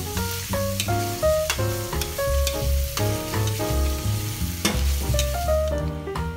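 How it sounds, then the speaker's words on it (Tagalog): Pork fries in a pan for Bicol Express while being stirred, with a continuous close sizzle and scraping stirring sounds throughout. "Haluhaluin nyo para makuha nyo rin yung flavor na yan at dumikit dun sa pork"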